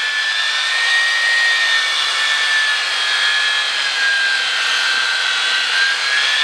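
A pipe threading machine cuts threads on black steel pipe, a loud, steady whining grind with a sustained high tone, running continuously and close up without talk.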